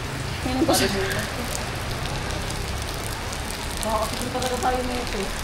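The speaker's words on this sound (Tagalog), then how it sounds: "Nabutan kami ng ulan." Steady rain patters on a surface with a dense hiss, while a few voices murmur briefly in the background.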